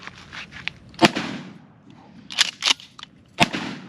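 A Mossberg 590 Shockwave pump shotgun fires lighter shells at an outdoor range, several sharp separate blasts spaced apart, loud and close, with brief rustling between shots.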